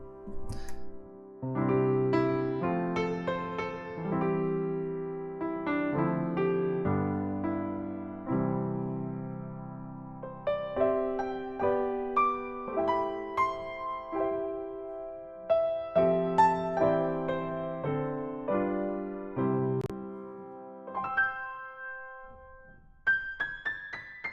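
A Steinway D grand piano, recorded from a wide microphone position, plays a flowing passage of chords and melody, clear and spacious with a slightly percussive attack, ending on a few held high notes.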